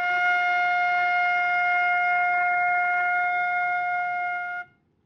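A flute holds a single steady F, clear and moderately loud, with rich upper overtones. The note sustains for about four and a half seconds and then stops cleanly, with no voices.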